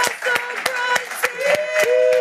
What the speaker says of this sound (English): Let's stand to our feet and give him a big round of applause.